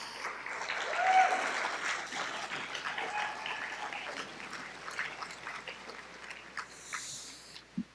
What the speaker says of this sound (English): Can we get a big round of applause for tonight's sages?